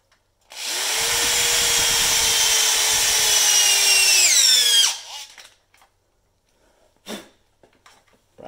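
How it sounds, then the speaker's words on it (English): A power drill whirs steadily for about four seconds, its pitch dipping as it bites in while drilling holes in a battery terminal, then stops; a couple of faint knocks follow. "Drill a couple of holes"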